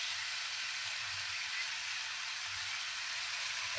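Green chili paste hitting hot oil in a pan of frying ridge gourd and potatoes, a steady loud sizzle that holds evenly throughout without any talking.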